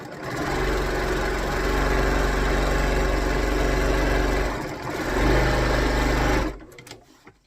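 A sewing machine runs a seam to the end of a quilting piece, a loud, close, continuous motor whir with rapid needle rhythm, briefly dipping near the middle before stopping, leaving faint handling sounds.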